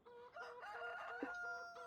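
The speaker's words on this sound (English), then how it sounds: "Over here, chickens," Chickens clucking and a rooster crowing in a farming video game, several close bird calls overlapping in quick succession, no talk.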